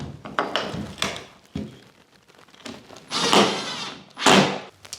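A door is fitted into a renovated bathroom: scattered wooden knocks and thuds, then two louder, longer scraping clunks toward the end, close by with no voices.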